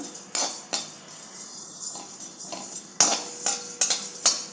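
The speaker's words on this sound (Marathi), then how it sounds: "याला थोडंसं एक मिनिटभर नुसतं परतून घ्यायचं आहे" Metal spatula scraping and clinking against a hot kadhai in irregular strokes, with light rustling of dry thalipeeth bhajani flour ingredients being stirred; no voices.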